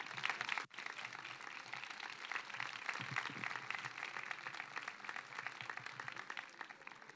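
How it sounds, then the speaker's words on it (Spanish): An audience at a patronal festival proclamation claps in steady, continuous applause, moderately faint and even throughout, following a brief sharp knock at the very start. "Un aplauso para ella, para Gema Moreno."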